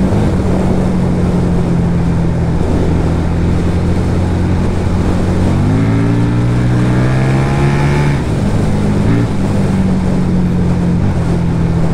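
FKM Victori 250cc V-twin classic cafe racer motorcycle engine running steadily up close, a low harmonic drone that climbs as the rider revs midway and then settles back to idle.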